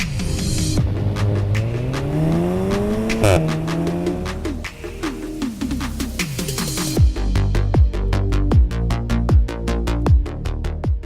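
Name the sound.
Volkswagen Golf 7R car driving and accelerating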